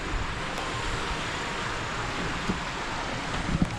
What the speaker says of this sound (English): you can hear the creek down there.